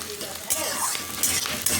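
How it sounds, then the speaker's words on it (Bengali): Capsicum and beans stir-fried in a pan for chowmein, with steady scraping and stirring over a soft sizzle, close and moderately loud, in short bursts with a few utensil clinks. "এবার এটাকে আমি ভাজা ভাজা ভাজা করব এই যে ভাজছি এবার"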